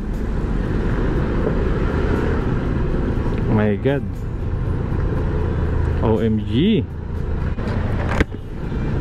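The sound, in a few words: road traffic noise near Kalayaan Bridge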